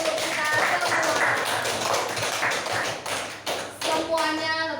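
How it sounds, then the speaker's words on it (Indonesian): Children in a classroom clap for everyone, a dense, continuous patter of many small hands close by, with voices rising over it near the end. "tepuk tangan untuk kita semua"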